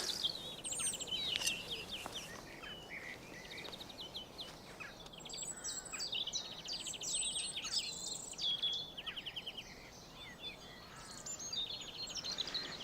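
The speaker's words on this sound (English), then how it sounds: "Birds singing." Several birds sing and chirp in a spring garden, with bright, overlapping twittering phrases over faint background hiss and possible insect noise, moderately near and without talk.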